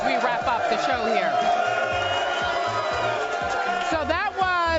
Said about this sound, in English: Bryant Park crowd rowdy, finishing with a bang as we wrap up the show here.